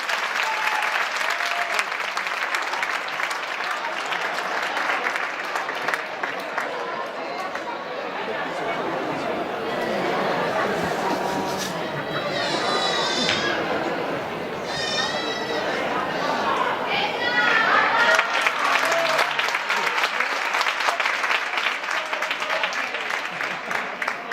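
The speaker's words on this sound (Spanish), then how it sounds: "Un fortísimo aplauso para el grupo Baby de Magic Fitness" Sustained audience applause at the 2013 Valencia choreography showcase for the Magic Fitness children's Baby group, steady dense clapping with chatter, some whoops and a brief sharp vocal squeak in the middle.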